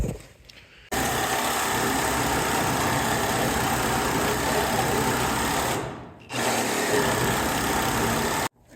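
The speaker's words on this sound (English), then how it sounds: "I'm just cutting them off with this Sawzall." Sawzall reciprocating saw cutting through bolts on the cab of an old Cushman Truckster golf cart, a loud, continuous rasping buzz that runs for about five seconds, dips briefly, then resumes before stopping abruptly.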